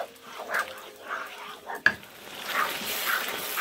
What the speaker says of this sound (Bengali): কিমা এবং সস খুব ভালোভাবে মিশিয়ে নিচ্ছি